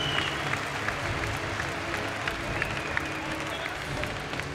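A boxing crowd applauds both fighters after a bout, a sustained wash of clapping from a large audience at moderate distance, with voices mixed in beneath.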